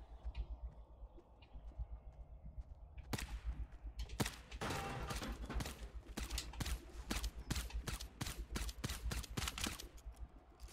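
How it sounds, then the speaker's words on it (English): Sharp gunshots in a shooter video game crack out in a dense, irregular burst after a quieter opening, loud and close, with repeated shots over several seconds. "I don't know where that shot came from, to be honest."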